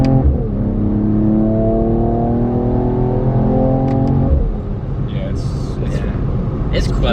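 A 2020 Mercedes-Benz E 53 AMG Cabriolet engine holds a loud, steady rev for a few seconds, then drops off sharply on a downshift, followed by a few quick exhaust pops and crackles under a rougher idle.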